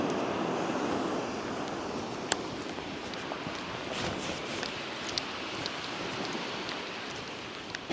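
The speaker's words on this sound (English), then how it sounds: "we have had torrential rain coming in all morning" Torrential rain pours steadily all morning onto waterproofs and a camera lens, a dense continuous hiss with occasional louder drops striking close by, loud and unbroken throughout.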